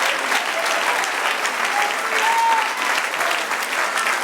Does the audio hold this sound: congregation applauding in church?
yes